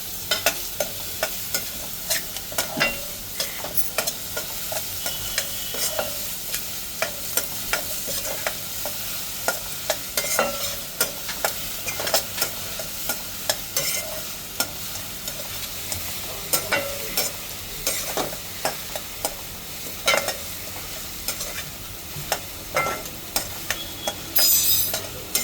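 Chopped onions fry with a pinch of salt and sugar and are stirred until golden brown, with steady close sizzling and repeated sharp scrapes and clicks of the spoon throughout.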